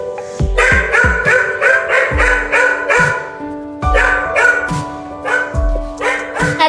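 A dog barks in a fast, repeated series of sharp, loud yaps during a fight with a snake, with short pauses between bursts.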